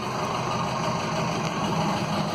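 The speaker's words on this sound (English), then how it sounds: "so I'll start the engine, pull out the gear lever." A Nelson 34 narrowboat's diesel engine idles steadily beneath its engine box, a continuous close rumble with an even, throbbing texture and no talk over it.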